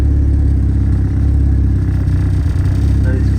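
A Honda B18B1 car engine running lean on E85 makes a loud, low, steady drone close by with slight unevenness, as if barely holding an idle.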